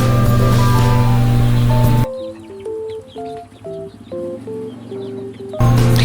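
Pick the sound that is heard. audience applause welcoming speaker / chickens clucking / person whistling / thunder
chickens clucking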